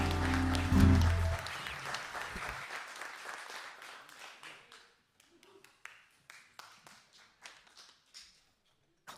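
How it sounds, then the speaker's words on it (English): A church congregation clapping as music ends, dense applause that thins out into scattered individual claps and fades to near silence with a few last taps. "Clapping, keep clapping."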